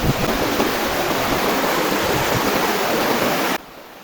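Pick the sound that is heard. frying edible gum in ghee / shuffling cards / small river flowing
small river flowing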